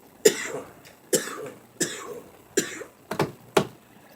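Six harsh coughs spaced about a second apart, close and fairly loud, with the last few coming in a quicker cluster.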